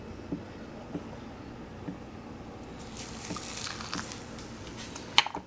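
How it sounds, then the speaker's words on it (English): Boiling water is poured onto dry TVP in a kitchen, a quiet, wet hiss and patter that starts faint, grows fuller partway through, and ends with a brief sharp clink. "I'm simply going to add a third of a cup of boiling water to this, maybe a slight bit more."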